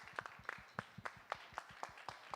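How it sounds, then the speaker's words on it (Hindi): Applause for musicians on a televised singing competition: quiet, sparse, fairly rhythmic hand claps, about a dozen distinct claps spread evenly, heard at a distance without talk. "सबसे पहले जोरदार तालियां संगीतकारों के लिए"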